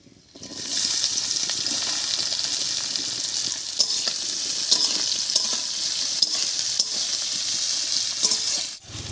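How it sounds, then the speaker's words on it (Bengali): Chopped onions frying in hot oil with whole cumin, a steady loud sizzle that starts abruptly and carries on evenly with faint stirring clicks, ending in a brief drop near the close. "জিরাটা তেলের মধ্যে একটু ভাজা হয়ে গেছে এবার এর উপরে দেবো দুটো পেঁয়াজ কুচি"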